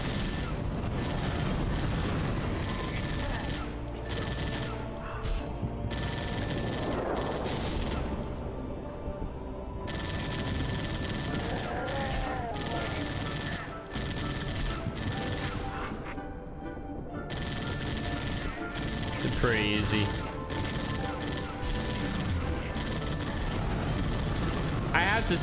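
Machine gun fire shredding wreckage in Halo Spartan Strike, continuous rattling bursts mixed with crashes and small explosions throughout, steady and loud, with a voice talking over the action.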